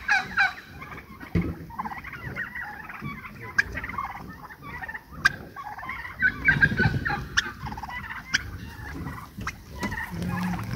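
Turkeys gobble and cluck repeatedly in a noisy pen, several birds calling at close range with overlapping, sputtering bursts.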